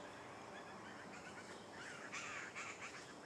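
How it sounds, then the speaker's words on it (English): Crows caw a few times in the distance in the early morning, faint harsh calls over quiet outdoor background. "It sounds like the bird activity is slowly on the rise out here"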